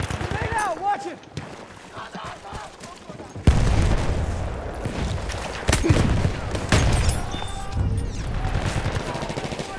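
In the World War I shooter Battlefield 1, a heavy grenade blast booms midway through amid bursts of rifle and machine-gun fire, with soldiers' voices shouting over the chaotic battle.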